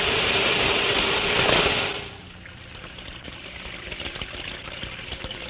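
Tap water pours from a freshly filled bucket in a cavitation experiment, a steady loud rushing that drops off after about two seconds to a softer continuing trickle.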